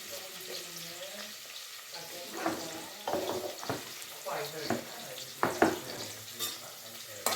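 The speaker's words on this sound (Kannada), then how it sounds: "ಈರುಳ್ಳಿ ಚೆನ್ನಾಗಿ ಫ್ರೈ ಆಗಲಿ." Onions and chillies frying in a pan for tempering, soft sizzling broken by stirring clatters and scrapes, with some quiet talk in the background.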